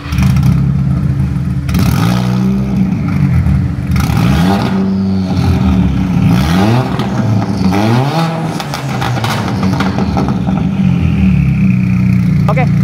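A VW Scirocco R with all-wheel drive and a tuned engine of over 800 hp revs loudly and repeatedly, its pitch climbing and falling in sustained sweeps with a steady rumble underneath and brief clattering at close range.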